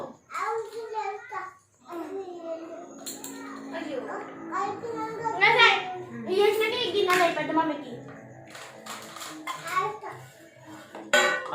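Toy pots, plates and spoons clatter and scrape in close, busy bursts while children chatter and call out throughout, the metallic clinks loud and frequent over the talk.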